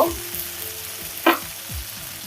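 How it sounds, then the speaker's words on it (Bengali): Garlic frying lightly in oil for a Bangladeshi fish curry, a steady soft sizzle with a single sharper clink or stir partway through, close and continuous with no voices. "রসুনটা একটু হালকা তেলে ভেজে নিয়ে দিয়ে দেব"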